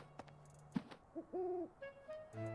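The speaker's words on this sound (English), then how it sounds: "an owl! Get over here!" Owl hooting in the Fire Emblem Three Houses video game, a few soft, short two-note hoots that rise and fall amid light game sounds, fairly close and clear, with no voices over them.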